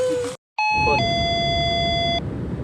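A doorbell chimes once with a bright two-tone ding-dong that rings out and fades, heard alone after a brief burst of noise.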